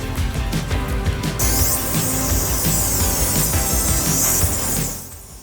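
Steady loud hiss of an automotive paint spray gun spraying a panel, running continuously, broad and close, tapering off at the very end.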